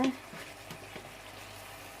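Meat frying in a pan with honey gives a soft, steady sizzle over a short moment, fairly faint and close, with a slightly louder burst right at the start.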